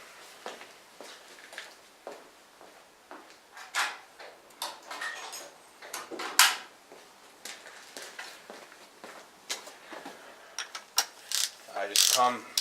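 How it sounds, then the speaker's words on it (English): A hand ratchet tightens spark plugs on a 2009 Audi A4 2.0L turbo engine, with close, irregular clicking and metallic ticks in short bursts that grow busier toward the end, heard alone without talk. "Go ahead and grab a ratchet, finish this up."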